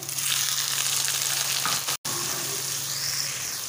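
Chopped tomatoes frying with onions in a pan for stuffed karela, giving a steady, close sizzle with a brief gap near the middle.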